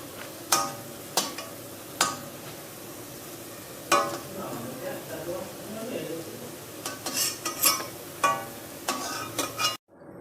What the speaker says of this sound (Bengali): এইভাবে আমি সমস্ত বড়াগুলো ভেজে নিচ্ছি